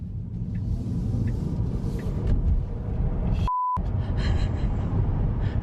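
Low rumbling road and cabin noise inside a Tesla Model 3 Performance accelerating hard, steady and continuous, with a short electronic beep midway.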